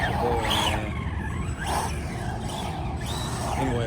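An ARRMA Senton RC truck bashing through a city downtown, its small electric motor whining and tires skidding and squealing in repeated swerves, close and moderately loud.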